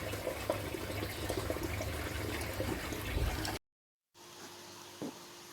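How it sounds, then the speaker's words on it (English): Water and air gurgle and churn steadily through an aquaponics bell siphon with a bubbling, draining quality, then drop to near silence before a quieter hum with a single soft gulp. "We've now got the air being pushed through. Air has now gone into the siphon, but not as much."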